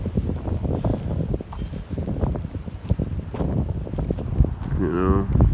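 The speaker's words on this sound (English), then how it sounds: "it's very windy out." Strong wind buffets the microphone outdoors while someone talks on a walk up a steep hill in Dublin, the gusty rumble running continuously under his voice.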